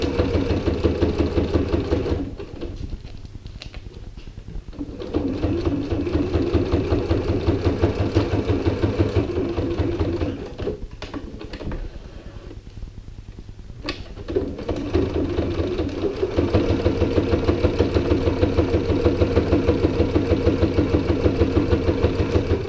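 A sewing machine stitching along the top and bottom edges of a strip of hook and loop tape, running in long steady bursts of rapid needle chatter, close, with brief pauses where it slows or stops.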